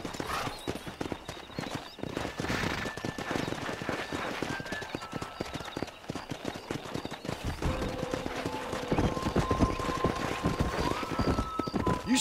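Horses from the Western video game Red Dead Redemption, steady clip-clop of hooves running throughout, with an occasional whinny and game music tones drifting in the background.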